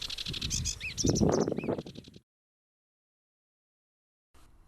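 Bright, chattering sedge warbler song with rapid trills and whistles for about two seconds at a marsh in England, then silence before a brief faint return.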